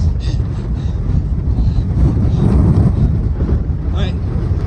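Strong wind buffets the summit of Saddleback Mountain on the Appalachian Trail, a loud, continuous rumbling roar with gusty surges, close and heavy throughout.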